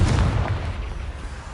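A Confringo blasting spell goes off in the Hogwarts Legacy video game: a single heavy, booming explosion with a deep rumbling body that fades steadily over about a second and a half.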